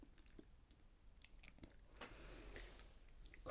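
Someone bites into a cream-filled biscuit, giving a close, crisp crunch around the two-second mark, with smaller chewing crackles before and after in a quiet room.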